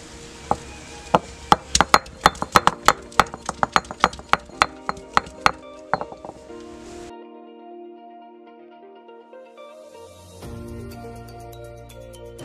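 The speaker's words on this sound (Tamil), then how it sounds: "அதனால் நம்ம தட்டி எடுத்துக்கிறோம்." Drumstick (moringa) stems pounded for soup: a rapid run of sharp, close wooden knocks in a steady rhythm that stops partway, leaving a quiet background hum.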